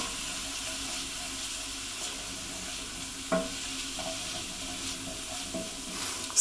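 Vegetarian sausage and bean casserole being stirred in a hot pan, a steady low sizzle with a soft spoon scrape and a few light knocks against the pan, no voices.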